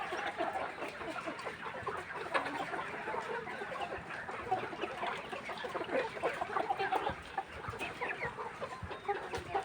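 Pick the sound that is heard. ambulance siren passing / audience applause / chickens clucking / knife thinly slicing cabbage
chickens clucking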